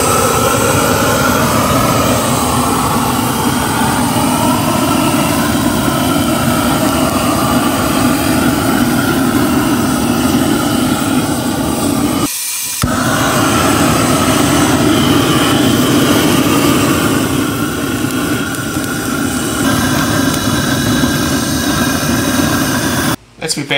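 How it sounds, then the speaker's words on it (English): Grill gun roaring continuously while lighting post oak wood in a Weber Smokey Mountain smoker, a loud, steady jet-like blast close by that drops out for a moment midway, then carries on almost to the end. "I'm gonna use my grill gun from grillgun.com here and start up the wood."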